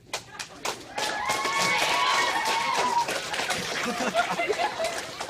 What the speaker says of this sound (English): everyone just erupts in applause, just all support